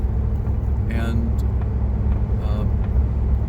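A Chevrolet Camaro IROC-Z, a barn find, cruises along the road on a trip, giving a steady low rumble of engine and road noise heard from inside the car.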